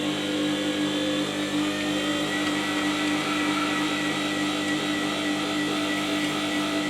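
The motor of a WG200 8-inch wet stone sharpening system hums steadily at a constant pitch, running alone and evenly at moderate loudness.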